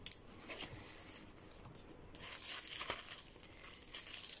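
Tissue paper in an altered-book junk journal crinkles and rustles faintly at close range in soft irregular bursts that grow a little louder toward the end, with no talking.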